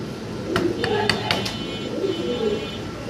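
Soft low coos from a pair of young Spanish fancy pigeons recur a few times, close by, with faint clinks and light background noise; a voice murmurs briefly underneath.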